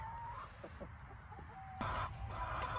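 Chickens clucking while their wings are clipped, a few short soft clucks and calls over low background rumble, then a louder burst of clucking near the end, fairly close.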